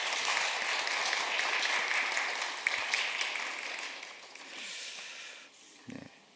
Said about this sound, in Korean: 저희가 박수로 환영하도록 하겠습니다